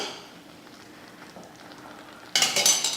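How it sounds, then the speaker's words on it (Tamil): Halwa is stirred in a pan as oil is added. After a quiet stretch, a sudden loud burst of sizzling and scraping rises near the end and carries on busily. "எண்ணெய் ஊற்றி கலந்துருவோம்"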